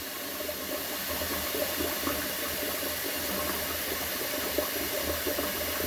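Water runs steadily into a bathroom sink that does not always hold water, a continuous close splashing stream with no speech.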